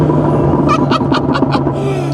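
Tuned exhaust of a McLaren 600LT popping and burbling, a quick series of about five loud, sharp crackles over a steady low engine drone, close by.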